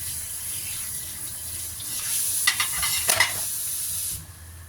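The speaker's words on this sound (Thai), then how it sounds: "ใส่ลงไปทอดเลยจ้า" Meatballs dropped into oil over medium heat for a tomato-sauce dish fry with a steady close sizzle and crackle, swelling louder midway with a few bursts of spitting before settling.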